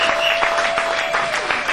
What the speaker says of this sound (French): Est-ce que vous pouvez applaudir le Seigneur?